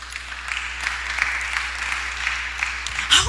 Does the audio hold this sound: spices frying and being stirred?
no